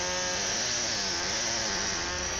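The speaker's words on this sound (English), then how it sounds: "The surface redressing of the stone used a pneumatic air chisel to remove the loose fragments from the surface." A pneumatic air chisel redresses a limestone surface on a historic cathedral stone test panel, making a loud, continuous, buzzing hammering drone that holds steady and close throughout with no pauses or voices.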